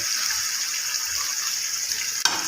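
Ginger garlic paste and chicken frying in a pan, a steady bright sizzle running throughout, with a short clatter near the end.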